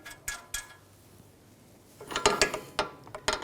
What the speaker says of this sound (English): And I'm going to snug this up with a 19mm socket.